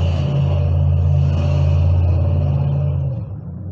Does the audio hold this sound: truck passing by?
yes